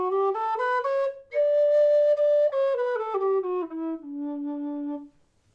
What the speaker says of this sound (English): the primary scale of a D whistle is all the holes covered all the way up to the second octave D and back down